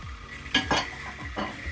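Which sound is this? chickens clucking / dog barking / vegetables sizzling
vegetables sizzling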